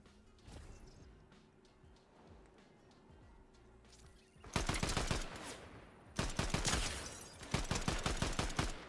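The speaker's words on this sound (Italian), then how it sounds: "Mi stanno sparando? Sì, evidentemente sì." Bursts of rapid gunfire aimed at a player in the video game Fortnite, loud and close, arriving in several volleys of crackling shots after a quieter stretch.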